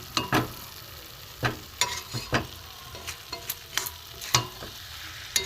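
Semolina being stirred and dried in a pan for steamed pitha: soft dry scraping strokes at an uneven rhythm over a faint background hiss, close and fairly quiet.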